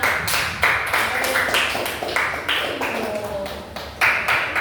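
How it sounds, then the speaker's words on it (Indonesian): Students clap together in a classroom during a teaching session, a dense ongoing patter of hands in uneven bursts, fairly close, with voices talking over it throughout. "Tepuk tangannya mana?"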